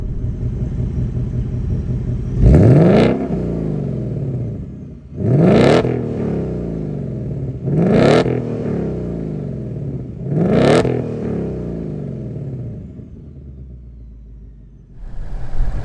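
A 2023 Ford Mustang GT Premium California Special with its 5-liter Coyote V8, rear-wheel drive, revved four times in sharp, loud bursts with idle rumble between each.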